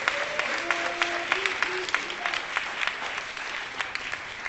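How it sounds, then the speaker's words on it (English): A town hall crowd in Rainier Beach applauds young neighborhood corner greeters, a steady wash of many hands clapping throughout, with a few voices briefly audible early on. "So let's give them another round of applause,"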